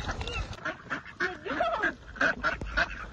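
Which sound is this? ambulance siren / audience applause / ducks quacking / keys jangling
ducks quacking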